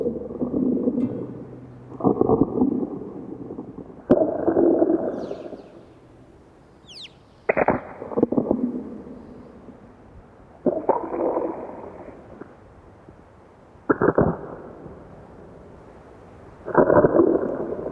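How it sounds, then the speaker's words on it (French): Seismic recording of rock cracking on a mountain cliff as a rock flake begins to break and detach from the wall, rendered as audio: a series of deep, booming thuds, each followed by a low rumbling decay, with quiet gaps in between. "les craquements qui interviennent dans la roche lorsque l'écaille va commencer à casser, à se décoller de la paroi"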